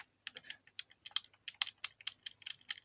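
A computer keyboard clatters with a run of about fifteen quick, crisp key presses in an irregular rhythm, close to the microphone, while someone plays a clicking game by hitting the X key. No talking.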